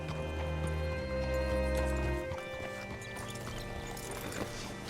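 Horse hooves clopping in Red Dead Redemption 2, a steady walking rhythm under a sustained musical drone and ambient tones, moderately near, no speech.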